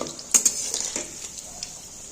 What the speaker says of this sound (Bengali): একটু সময় নিয়ে ভাজতে হবে যাতে ময়দাটা কাঁচা না থাকে